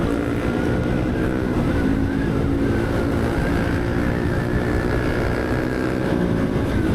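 A Honda Giorno 125 scooter fitted with 13 g flyballs and 1200 rpm springs running at full throttle, a steady loud engine drone with wind rush heard from on board, continuous throughout with no talking.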